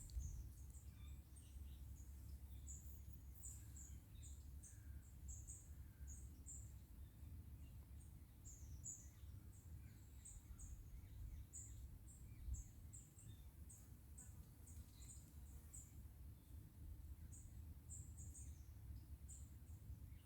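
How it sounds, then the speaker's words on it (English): Small birds chirp and call in short, scattered bursts through autumn woodland, thin and fairly distant over a steady low outdoor rumble, with no talking. "I'm just beginning to notice the sound of the birds, singing and calling to each other."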